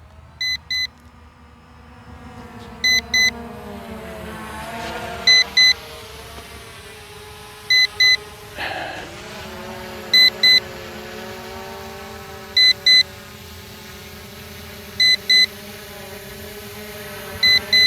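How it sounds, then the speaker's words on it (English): An Attop W80 drone returning home over a baseball park gives short, sharp electronic beeps in pairs, repeating about every two and a half seconds over the steady whine of its motors. "the beeping tells us that it is coming down"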